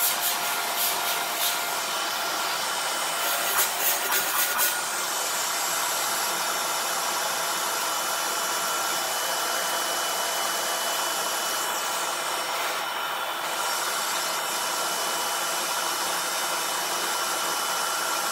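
A Shark vacuum cleaner running with a steady high whining motor hum, a few clicks early on from debris rattling in the bin, otherwise continuous with no talk.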